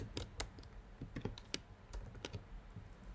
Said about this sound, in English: I go to the end of the sentence, hit return twice, and type my link that I want to put